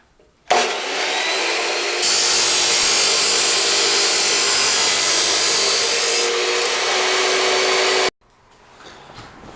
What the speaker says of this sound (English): we got the chop saw all set up, piece marked off, we're going to make a leg